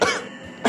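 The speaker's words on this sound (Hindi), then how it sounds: "कुछ नहीं, थोड़ी सी खांसी बस" Two short, harsh coughs a moment apart, close and clear, with a quiet gap between them in an Indian TV drama scene.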